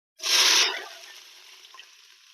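Oil sizzles loudly as six chopped onions go into a hot pan for chicken curry, a bright hiss that quickly settles into a softer, steady frying crackle.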